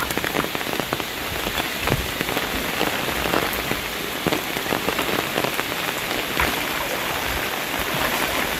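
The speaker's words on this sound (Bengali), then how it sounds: "আর যদিও বৃষ্টি আবার শুরু হয়েছে" Steady rain pattering densely on surfaces, a continuous hiss of countless drops with sharper individual splats, close and even throughout with no voices.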